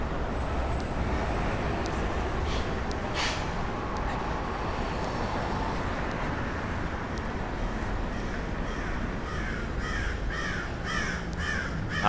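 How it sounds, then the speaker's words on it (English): A crow caws sharply a few times above the steady roar of traffic and city street noise on a New York avenue, with the calls fairly distant and brief. "That crow is angry."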